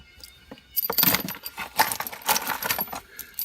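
A bunch of keys jangles close by in a few bursts of metallic clinking and rattling, with quiet gaps between shakes and no one talking.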